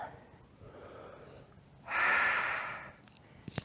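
A strong, breathy exhale during a Pilates exercise, sustained for about a second and rising to full loudness before fading, with fainter breaths around it and no talking.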